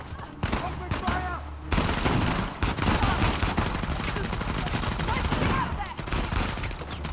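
Sustained gunfire in the video game Uncharted: The Lost Legacy, rapid automatic bursts and scattered shots crackling loudly over several seconds, with shouted voices mixed into the firefight.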